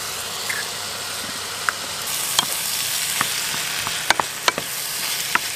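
Eggs and couscous sizzle steadily in a pan on a small camper van stove, with scattered sharp clicks and scrapes as the mixture is stirred, close and moderately loud.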